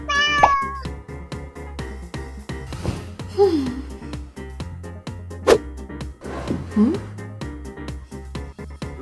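A house cat meows several times, short clear calls scattered among clattering household knocks and taps, with a voice speaking briefly in the background.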